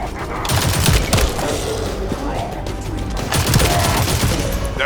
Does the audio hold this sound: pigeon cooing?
no